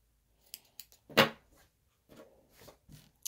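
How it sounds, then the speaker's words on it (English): Scissors snipping threads and fabric corners on a sewn laptop cover, several close, crisp cuts with one louder snip in the middle, quiet between cuts and no speech. "I'm now just going to cut the threads and the corners."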